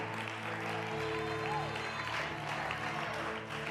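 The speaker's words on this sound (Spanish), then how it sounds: "vamos, fuerte ese aplauso con celebración y victoria" Church congregation applauding in celebration during a sermon, a steady broad wash of clapping with sustained musical tones underneath throughout.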